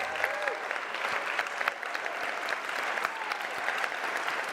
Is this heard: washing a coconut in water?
no